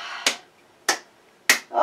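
A yoga class claps hands in unison, three sharp, crisp claps spaced evenly about half a second apart, each fading quickly, with a fourth beginning at the end.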